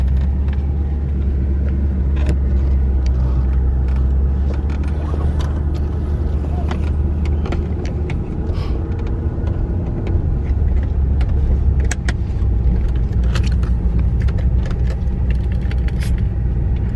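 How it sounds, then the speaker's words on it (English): A Maserati driving slowly around a family cemetery, heard from inside as a steady, loud low engine and road rumble with tire noise that continues without letup, faint clicks and knocks scattered over it. "Okay, I'm gonna drive around the cemetery top here."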